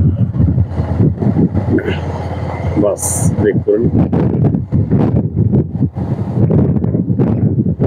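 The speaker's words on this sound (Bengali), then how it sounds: "সেই সাথে প্রবল বাতাস, হাওয়া বইছে" Strong wind gusts buffet the microphone on the Padma riverbank, a loud, rough, continuous rumble with someone talking over it throughout.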